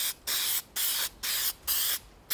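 Short bursts of Plastidip rubber coating sprayed from an aerosol can onto the plastic parts of an RC4WD Gelände II 4x4 truck kit. Four close, even hisses of about half a second each are separated by short gaps.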